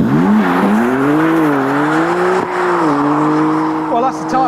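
A car launches hard with loud tyre squeal, wavering tonal screech over engine roar that continues throughout, close and dominant with no other sound competing.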